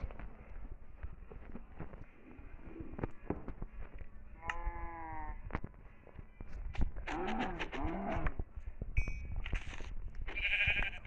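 Sheep bleat repeatedly in Minecraft over a constant background hum of game sound, with several wavering cries and a few sharp clicks and thumps.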